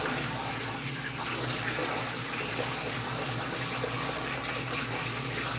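Tap water runs steadily into a bowl of sorrel in a Jamaican kitchen to cover it for a second wash, a continuous splashing rush at close range with no talk over it.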